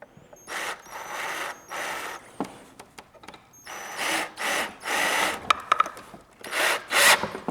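Wooden parts of a Språng chair being wiggled into alignment during assembly, giving repeated bursts of rubbing, scraping wood-on-wood friction with small knocks between them, close and clear with no talking.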